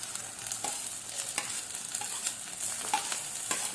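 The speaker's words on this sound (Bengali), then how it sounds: "একটু নাড়িয়ে নেব।" Bitter gourd dorma filling frying in a pan, a soft continuous sizzle broken by several distinct scrapes of a spatula stirring through the mixture, close and with no talking.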